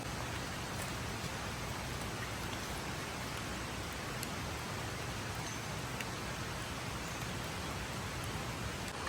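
Steady rain falls continuously on a village at Karjuve, Sangameshwar, a dense even hiss of drops on a surface with no pauses and no voices.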